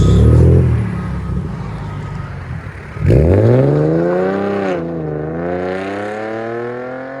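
Nissan 370Z exhaust fitted with Vibrant mid-pipes and resonators, loud and close: a harsh rev climbs after a brief lull, then holds a steady raspy drone with rising and falling pitch.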